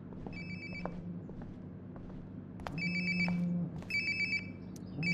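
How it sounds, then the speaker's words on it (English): A mobile phone rings in the video game Life is Strange: Before the Storm, a bright repeating electronic trill in short bursts over a low room hum, fairly quiet and nearby with no talk. "Sounds like my phone is definitely nearby."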